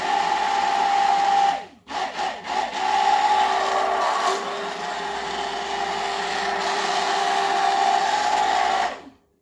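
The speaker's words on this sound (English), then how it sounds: "I'm going to go ahead and start stirring now" Soap batter stirred by hand for a Nag Champa scented batch, a steady close scraping and rubbing that runs almost continuously with a short break near the start, no voices.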